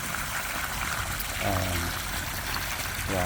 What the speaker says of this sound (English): This shows how powerful the pump is.